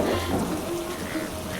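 Rain falling steadily, a continuous broadband hiss with a low rumble underneath, close and fairly loud, with no voices.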